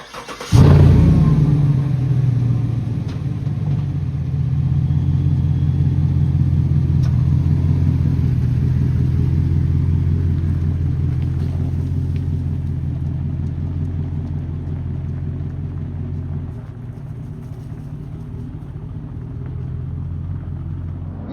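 A Chevrolet Silverado truck with a 6.2 V8 starts with a loud crank and catch, then settles into a deep, steady engine rumble as it drives off after an oil change, slowly easing down in level.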